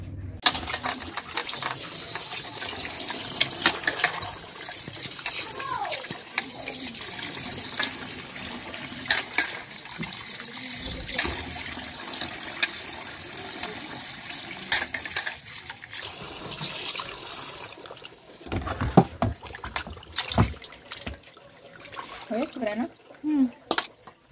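Tap water runs steadily while cut duck meat is washed in a basin, a close splashing rush with clatter of the meat and container, as people talk over it.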